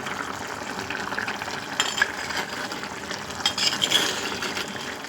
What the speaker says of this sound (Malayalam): നമ്മുടെ മീൻ ഇതാ തിളച്ചൊക്കെ വന്നിട്ടുണ്ട് അപ്പം അതൊക്കെ ഒന്ന് ഇളക്കി കൊടുക്കാം